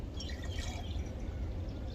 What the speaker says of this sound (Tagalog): Tagayan natin ang tubig